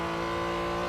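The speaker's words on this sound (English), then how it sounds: "Couple of roars from cars." Race cars roaring in the Real Racing 3 mobile game, a brief, loud, steady engine drone held alone without talk.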